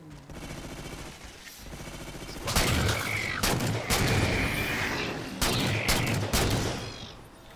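Halo 4 gunfire from The Master Chief Collection on Xbox Series X: after a quieter opening, loud bursts of rapid shots and sharp blasts come in several clustered volleys, with game sound effects filling the gaps.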